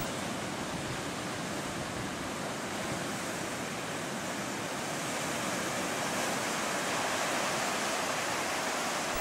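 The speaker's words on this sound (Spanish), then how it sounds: "observando el fuerte oleaje desde la carretera Panamericana Norte en Pasamayo" Strong, anomalous ocean swell pounds the Peruvian coast at Pasamayo, as heard from the Panamericana Norte highway. Heavy surf gives a continuous, loud, broad roar that swells slightly toward the end, with no voices.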